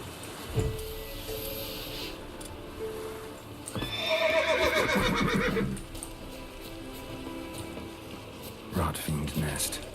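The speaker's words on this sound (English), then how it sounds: "Run, Roach" A horse in The Witcher 3 video game whinnies loudly in a long rising and falling neigh, with hoof clip-clops and game effects around it, and a short voice line before.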